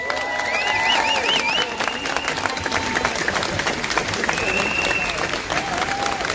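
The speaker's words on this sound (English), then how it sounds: "So give yourselves a round of applause" A crowd at an outdoor vigil in London claps and cheers in a steady, loud burst of applause, with scattered whistles and voices rising over the clapping.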